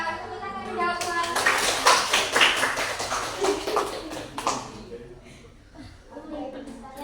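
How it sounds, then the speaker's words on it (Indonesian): Classroom clapping from students, a burst of fast overlapping hand claps that swells and then fades, mixed with children's voices and a teacher speaking. "Tepuk tangan menjawab uang"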